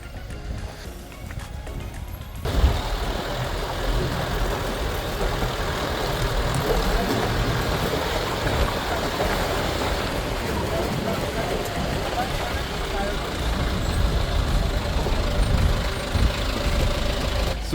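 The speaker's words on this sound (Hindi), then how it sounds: "रास्ते पूरे खराब है और बस कुछ इस तरह से जा रही है" A bus driving off-road along a badly damaged road near Gokarna: a steady engine rumble with continuous rattling and jolting clatter, close and sustained.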